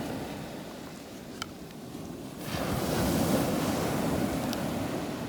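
Ocean surf on a beach reached on a morning run, a steady wash of waves that swells louder about halfway through as a breaker rolls in, mixed with wind buffeting the microphone.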